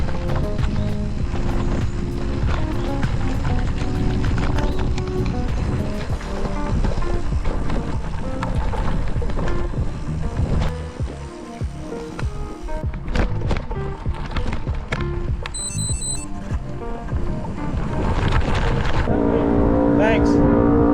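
A bicycle rolls over rough, chunky gravel on closed roads around the Scituate Reservoir during the Tour de Rhody ride, giving a continuous loud crunching rattle with wind noise and no break across the whole stretch.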